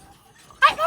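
A household dog at a family Onam gathering lets out one short, sharp bark or yip near the end, close by and loud after a quiet moment.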